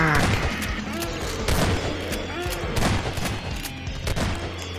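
Rapid gunfire bursts in the video game Garry's Mod on a horror map, dense repeated shots with booms throughout, loud and continuous with a player's voice underneath.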